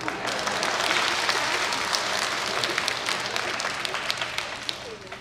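An audience at a Seattle Chinese New Year gala applauds loudly and continuously, a dense wash of many hands clapping without a break.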